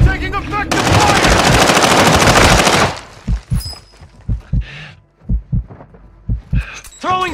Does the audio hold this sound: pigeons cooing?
no